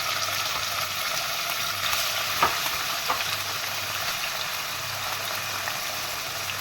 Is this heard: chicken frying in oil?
yes